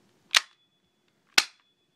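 Two sharp, loud metallic clacks about a second apart as the slide of an HA-117 Glock 17 airsoft pistol is racked, each short and crisp with quiet between them.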